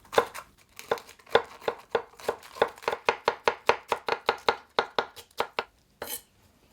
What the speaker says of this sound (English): Peel a leaf off the cabbage, roll up, then cut in thin pieces.